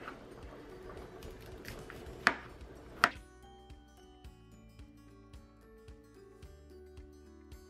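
A knife cuts small pieces off an ear of corn for a salad, a series of soft, quiet chopping taps against a board, with two sharper knocks early on.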